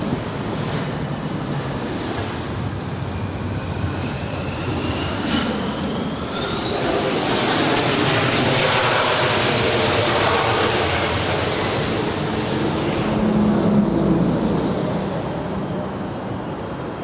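A jet airliner at Los Angeles LAX airport builds into a broad, steady roar that swells and lingers over several seconds, heard from a distance through gusty wind noise on the microphone.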